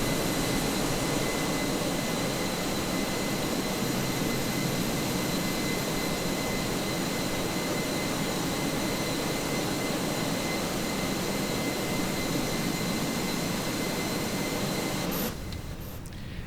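A steady, loud simulated airliner jet engine roar from an Airbus A320 flight simulator during pushback, with a high whine, holds constant and then cuts off abruptly near the end.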